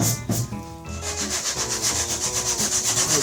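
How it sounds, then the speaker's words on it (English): Body filler being sanded by hand with 80 grit sandpaper on a dent in a Mazda Miata under restoration, giving rhythmic close rasping strokes, steady and without talk. "I was gonna take some 80 grit and lightly go on"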